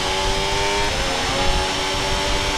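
A car engine in a racing video game revs hard under steady, nearly full throttle, giving a loud, continuous and dense drone that holds without a break for a few seconds.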